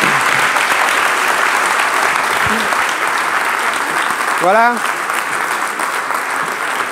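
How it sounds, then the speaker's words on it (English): Sustained applause fills a colloquium hall after a discussion, an even wash of clapping, with a brief spoken word and a short melodic tone cutting through partway. "I think a big round of applause"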